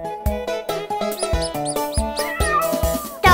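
Bright cartoon meows and playful plucked musical notes from an Italian 3D preschool children's song, short repeated tones in a bouncy rhythm with a squeaky mouse-like figure.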